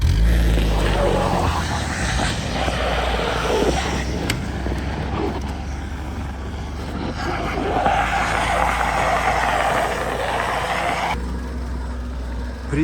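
A tentukha truck moves off at -55°C hauling a heavy trailer, its engine a loud continuous roar with grinding road and tire noise, steady throughout with a slight shift near the end.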